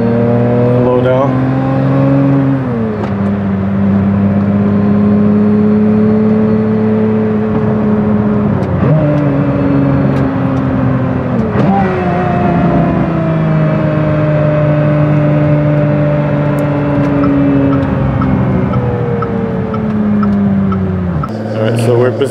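Pagani supercar with a dog box transmission revving and shifting, a loud close engine drone that climbs in pitch, drops sharply at each gear change and climbs again before cutting off.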